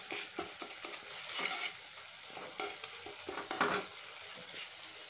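Cooked tomatoes mashed in a pan for broccoli butter masala, a soft sizzle broken by repeated dull presses and scrapes of a utensil against the pan, close and steady with no talk.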